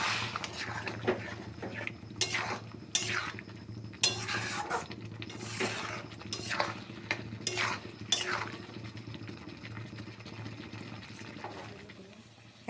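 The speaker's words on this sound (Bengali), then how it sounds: "এখন সমস্ত মশলাটা ভালো করে কষাতে থাকবো" Spice paste with potatoes being sautéed in a pan for a green pea ghugni, repeated scraping stirs at an uneven rhythm over a low background sizzle, close and moderate in level.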